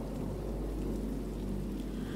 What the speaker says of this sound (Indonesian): suasana saat itu hujan deras dan ada suara petir